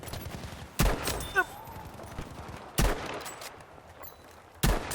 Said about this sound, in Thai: สไนเปอร์ยิงสวนกลับมาด้วยแต่ไม่แม่นพอครับ